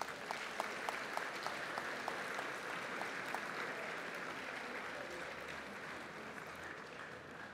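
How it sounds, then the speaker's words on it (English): Audience clapping at a school assembly at Good Samaritan Catholic College, a steady, fairly faint wash of many hands in a hall that holds evenly throughout. "So these students really do deserve a big round of applause for their efforts in 2018."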